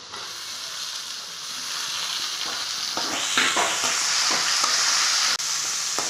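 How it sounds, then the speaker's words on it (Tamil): Tomatoes hit a hot pan of cooked potatoes and sizzle steadily, with a loud, close hiss. Scraping stirs of a spatula recur through the frying. "இப்போ நம்ம தக்காளி சேர்த்து வதக்கலாங்க."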